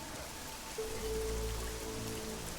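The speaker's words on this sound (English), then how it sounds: "it's raining here for starters, so all the blood has been washed away" Steady rain falls on the streets of Prague in the game Deus Ex: Mankind Divided, a constant hiss of drops with a low ambient hum beneath and no talking.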